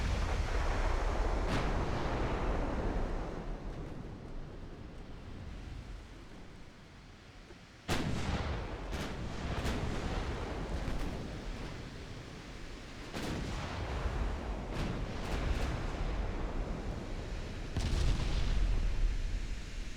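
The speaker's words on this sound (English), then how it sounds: "Only the A turret is firing" Turret gunfire from dreadnought battleships in the naval game Ultimate Admiral: Dreadnoughts, 1910 era with 17-inch shells: heavy booming salvos in scattered bursts, some shots close together, over a constant rumbling sea-like wash.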